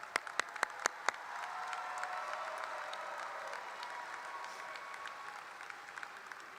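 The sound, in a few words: audience applause at a graduation ceremony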